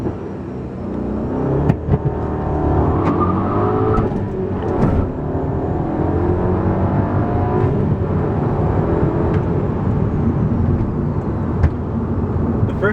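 A 2011 Audi A3 fitted with a K&N cold air intake accelerates, its engine droning loud and steady throughout, the pitch climbing through rising sweeps with brief dips between gears.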